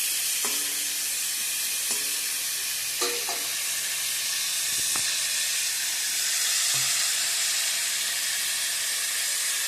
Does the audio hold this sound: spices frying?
yes